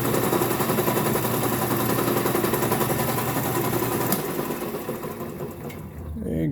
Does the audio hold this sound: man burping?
no